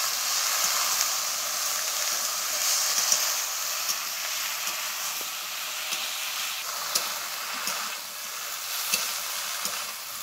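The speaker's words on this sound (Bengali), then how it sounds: "এবারে সব কিছুকে খুব ভালোভাবে একটু নেড়ে চেড়ে নিতে হবে।" Small fish and water lily stems with turmeric and salt stir-fried in a pan, giving a steady broadband sizzle with scraping stirring strokes throughout, close and fairly loud, no voices.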